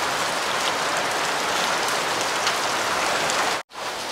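Heavy rain pours steadily on a dark, stormy day with strong wind, a dense continuous hiss that briefly cuts out near the end.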